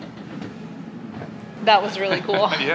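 A train passing at the Adirondack Experience museum at Blue Mountain Lake, New York, gives a steady rumble beneath people chatting excitedly nearby.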